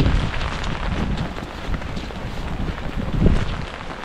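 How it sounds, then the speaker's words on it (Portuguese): Cold wind buffets the microphone on a mountain climb toward Martial Glacier at the southern tip of the world, a steady loud roar with gusts that swell near the end, with no voices. "tá cortando demais já o vento frio na cara"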